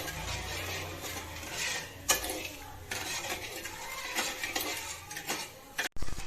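A spoon stirs a mixture around a pan while making motichoor laddu, giving continuous scraping and clinking with a few sharper knocks and a brief pause near the end.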